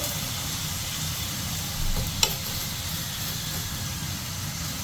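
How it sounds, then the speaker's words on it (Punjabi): A leftover-dal paratha sizzles on a hot griddle while being cooked on both sides: a steady, close frying hiss with a brief louder flare near the middle. "ਇਸ ਤਰ੍ਹਾਂ ਆਪਾਂ ਹੁਣ ਇਹਨੂੰ ਦੋਨੋਂ ਸਾਈਡ ਤੋਂ ਸੇਕ ਲੈਣਾ"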